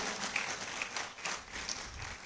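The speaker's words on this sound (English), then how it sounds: "Another round of applause is in order for our keynoter" An audience at the UCC SoPPS second White Coat Ceremony applauds the keynote speaker. Soft, steady clapping continues throughout, fairly distant and low in level.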